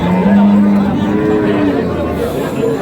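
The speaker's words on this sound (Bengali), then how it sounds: "দেখছেন দুধের গাভী এবং বাছুর।" A dairy cow with her calf at a rural cattle market in Thakurgaon, giving a loud, drawn-out moo close by while crowd chatter murmurs behind it.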